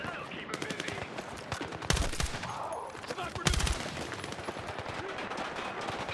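Sniper gunfire in the Battlefield 6 video game: two loud, sharp rifle cracks a couple of seconds apart stand out over continuous background battle noise and scattered gunfire.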